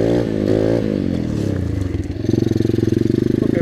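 A 125cc pit bike engine revs hard in second gear, loud and close, its pitch rising and then settling into a rapid pulsing throb as it pulls under load.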